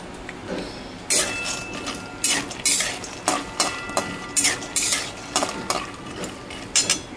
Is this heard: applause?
no